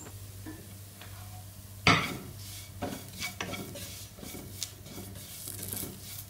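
A spoon stirs masala with black pepper powder in coconut oil in a pan, with soft scraping and gentle sizzle, one sharp clank of utensil on metal, then lighter scrapes and taps.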